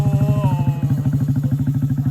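A motorcycle engine starts and settles into a loud, close, rapid idle throb during a riding lesson, with the starter whine fading in at the beginning.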